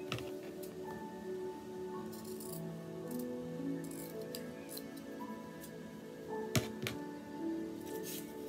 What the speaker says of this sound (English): You want to make sure you cut off a little extra fabric for the top